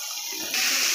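Water poured into a pan of curry, a short close rush of splashing that grows louder and brighter partway through.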